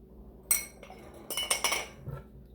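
Food being stirred in a pan, a few close metallic clinks and scrapes of a utensil in short bursts, with quiet pauses between them.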